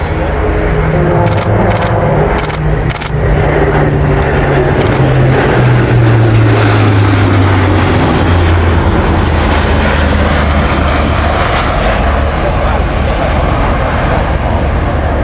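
A German Airbus A400M military transport plane makes a fast low-level pass at up to 285 knots, its loud propeller-turboprop roar rising and then falling in pitch as it sweeps by, with a few sharp clicks early on.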